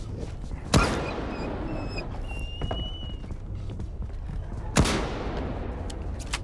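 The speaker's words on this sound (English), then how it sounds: "we actually got 2 nice boomstick shots off on that one" Two loud shotgun blasts from a boomstick in a combat video game, spaced about four seconds apart, each a sharp crack with a short tail over a busy game background.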